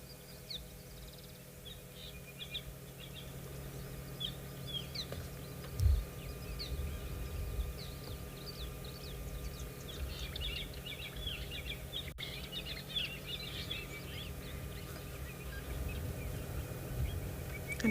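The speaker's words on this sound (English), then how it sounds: "just a bit of, background noise of the birds as they're moving through the drainage lines" Scattered bird chirps and calls drift through a quiet outdoor ambience around a dam during an afternoon safari in South Africa, moderately distant and intermittent, with a low steady background hum.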